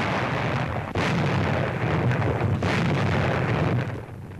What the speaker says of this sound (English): enemy bases were subjected to constant shelling by heavy artillery